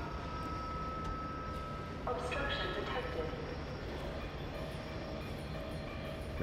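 A moving tram in the video game F.E.A.R. 2 gives a steady rumbling, rattling rail noise with a faint tonal squeal, continuous and moderately loud, with speech heard over it.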